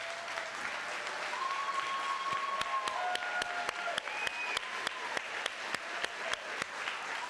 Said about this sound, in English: so that we can just give you a round of applause